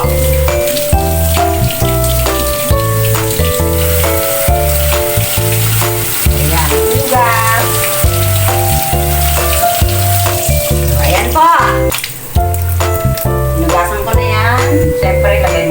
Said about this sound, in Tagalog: Prituhin muna natin yung sausage.